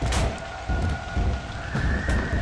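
Rain pouring in the convenience store of the horror game UnHaunting Hour 2020, a dense steady downpour with low rumbling, heard alone and fairly loud.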